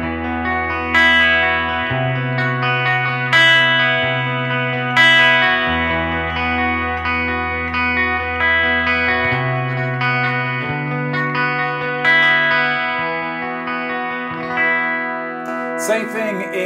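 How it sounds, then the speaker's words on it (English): Gray Grayling electric guitar played clean through reverb and ambience effects, big open chords ringing with long washed-out sustain over a moving low bass line, loud and alone. "just so you can hear that kind of sound with this guitar"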